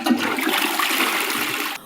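A toilet flush sound effect: a steady rushing swirl of water lasting about two seconds, fairly loud and close, heard alone with no voices.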